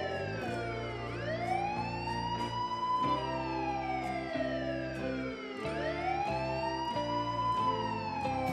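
Wailing ambulance siren in the Minecraft video game, a continuous loud rising-and-falling electronic tone sweeping up and down in two long cycles with no talk over it.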